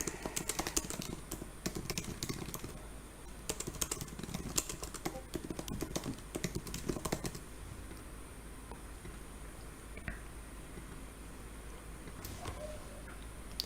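Typing on a computer keyboard, quick bursts of close key clicks for about seven seconds, then sparse isolated taps over a quiet background hum.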